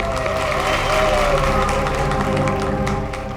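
Audience applause at a DKC charity event, a dense steady wash of clapping with some crowd noise and a tonal music-like line underneath, holding level before easing slightly at the end.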